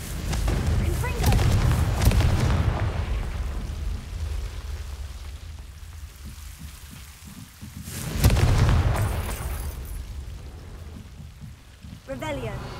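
A Confringo blasting spell in Hogwarts Legacy, two loud booming explosions several seconds apart with crackling debris decaying after each, set among game effects.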